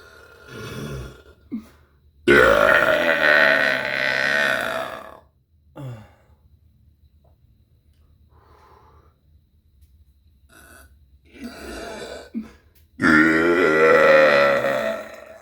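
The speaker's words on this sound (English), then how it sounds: "I am fully of burps this Halloween." Long, loud, drawn-out burps from a person at Halloween, two big belches and a few shorter grunting ones, close and isolated with quiet gaps between them.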